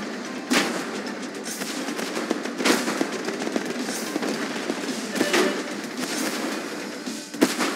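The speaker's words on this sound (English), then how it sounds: "We are under gunfire." Gunfire in the tank combat game Tank Force: several sharp, loud blasts at irregular intervals over a constant rumbling engine and battlefield background.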